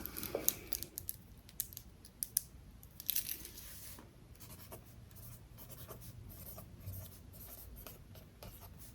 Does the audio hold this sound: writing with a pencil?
yes